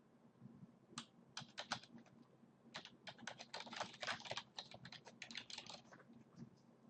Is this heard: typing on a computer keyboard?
yes